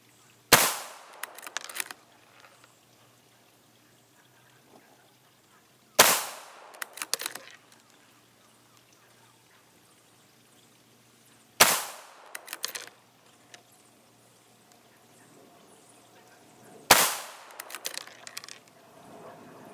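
Four sharp rifle shots from a budget precision rifle, fired one at a time several seconds apart in a 5-shot group, each loud crack followed by a brief echoing tail outdoors.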